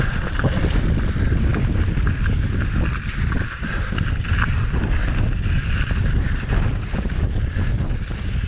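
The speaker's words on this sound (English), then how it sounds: "Oh, the wind. It is definitely going against our faces here." Strong wind buffeting mountain bikers on a desert trail in the Phoenix Mountain Preserve at sunset, a loud continuous roar of wind across the microphone with rolling tyre and gravel noise underneath.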